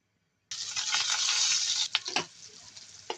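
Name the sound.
garlic and onion frying while stirred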